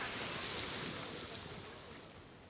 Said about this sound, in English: We're sitting in front of a hot pool, which is giving off water vapor and steam.